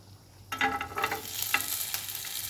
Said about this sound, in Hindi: थोड़ा सा ऑयल डाल के मैं जो अपने नट्स हैं उनको फ्राई कर लूँगी